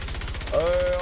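A level 130 Swan Gun, a Fortnitemares 2018 event weapon in Fortnite Save the World, fires a rapid, steady stream of close shots, with a sustained tone rising in partway through.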